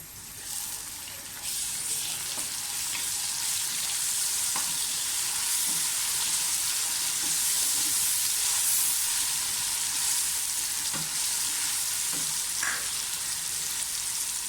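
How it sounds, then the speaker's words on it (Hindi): Steady loud sizzling of garlic-ginger paste frying with onions in hot oil, with occasional stirring clicks and scrapes, close up and continuous. "प्याज लाइट ब्राउन से होने लगे तो साथ ही इसमें लहसुन अदरक का पेस्ट डाल दें।"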